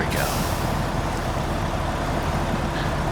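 A heavy truck engine from the video game SnowRunner rumbles continuously and loudly without a break, with a brief hiss near the start.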